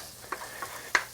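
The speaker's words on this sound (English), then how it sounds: "I'm gonna come back over here and stir the ingredients" A few light utensil scrapes and taps against a skillet while omelet ingredients are stirred, three soft separate strokes over quiet room tone, the last one the sharpest.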